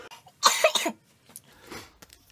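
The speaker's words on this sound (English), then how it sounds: "I am going to cough one moment." A single harsh cough burst up close, followed by a quieter throat-clearing sound and faint breathing.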